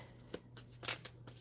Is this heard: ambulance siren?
no